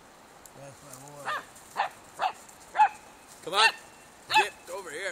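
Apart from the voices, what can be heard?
Jamthund puppy barking at a moose while hiking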